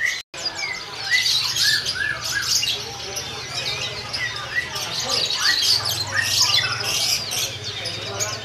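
Caged birds at a kiosk in Pramuka bird market keep up a dense, steady stream of chirps and squawks at close range, under low background murmur and some voices.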